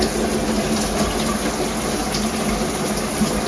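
Water sprays steadily from an adjustable shower head in a bathroom, a loud continuous hiss that holds without pause throughout.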